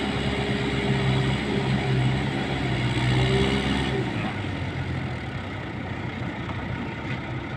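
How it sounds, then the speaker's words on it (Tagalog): An old forklift engine labors under load while lifting concrete blocks, a loud continuous low rumble that strains and wavers throughout, with faint voices in the background. "Luma na yung forklift niya. Panay iri na eh. Parang wala na siyang lakas."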